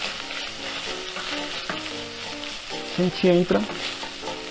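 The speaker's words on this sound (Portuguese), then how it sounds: "Vamos, né, dourar a linguiça. Essa linguiça aqui tem umas 300 gramas de linguiça calabresa fininha" Thin calabresa sausage, about 300 grams with the casing removed, browns in a frying pan with garlic and meat, giving a steady close sizzle and frying crackle with a few stirring scrapes, while a voice speaks briefly.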